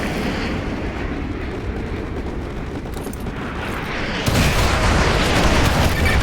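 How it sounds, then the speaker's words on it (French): Modern Warfare 2 (2009) artillery barrage pounding vehicles: a continuous heavy rumble of blasts rolls on, then swells louder and denser near the end. "sers-toi de ton désignateur laser pour que l'artillerie pilonne ces véhicules"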